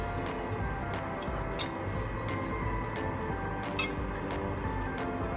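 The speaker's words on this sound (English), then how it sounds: "And let's whisk it" Brownie mixture being whisked in a pan over a low flame, a rapid run of light metallic clinks and ticks against the pan over a steady low bed of noise, close and without voices.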